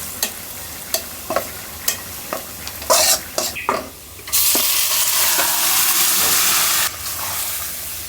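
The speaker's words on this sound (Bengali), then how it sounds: "বেশি করে পেঁয়াজ আর জিরা দিয়ে এখন শাকটা বাগার দিয়ে দেবো" Greens hit hot oil with plenty of onion and cumin for tempering, first a few spoon clinks and stirring scrapes, then a sudden loud steady sizzle that holds close and strong to the end.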